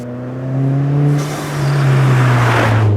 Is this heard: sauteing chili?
no